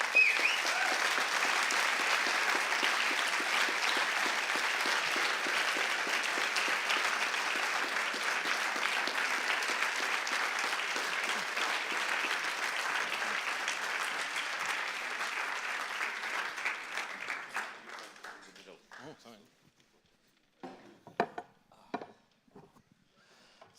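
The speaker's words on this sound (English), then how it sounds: "We heard the applause." After a symposium lecture, a hall audience claps in a sustained, dense round of applause that runs strongly for most of its length, then thins into a few scattered, fading claps.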